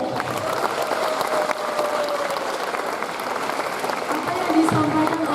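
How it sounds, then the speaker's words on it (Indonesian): Audience applause for a student speaker at a junior high school event in Bandar Lampung, a steady wash of clapping from a crowd that holds evenly for about five seconds, with a faint voice tone running underneath. "kita beri tepuk tangan sekali lagi untuk Devran"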